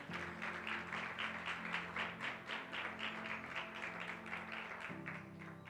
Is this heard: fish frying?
no